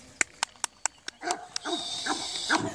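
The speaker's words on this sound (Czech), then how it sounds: "to je pes." A young dog gives a series of short, sharp barks in an even rhythm, then breaks into whining and whimpering yelps that rise and fall, heard close and on its own.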